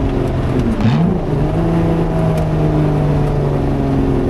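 A loud, steady Lotus Exige engine drones close by on an Alpine drive, its pitch dipping briefly then holding level at a throaty idle-like hum.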